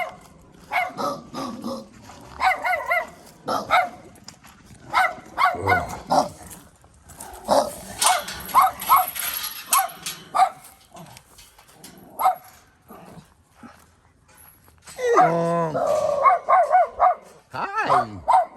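Several dogs bark in bursts over about eighteen seconds, some yips and whimpers mixed in, with people talking softly in between.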